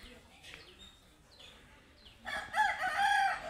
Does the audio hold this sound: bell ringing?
no